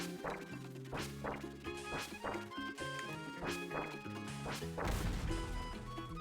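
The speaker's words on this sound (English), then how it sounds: "The explosions get huge when you chain them all." Chained explosions in Kirby and the Forgotten Land, a rapid series of punchy bursts and whacks layered over the game's bright music, with a heavier blast near the end.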